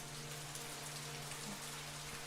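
Rain falls steadily in the horror video game Fatal Frame 3, a constant soft hiss with no talk over it.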